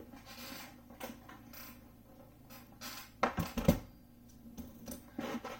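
An Empire Sky-Riter portable typewriter being handled, its mechanism giving scattered clicks and light metallic clatters with a louder cluster of knocks midway, close and fairly quiet with no talk.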